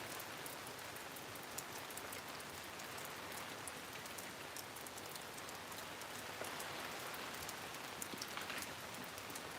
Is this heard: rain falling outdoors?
yes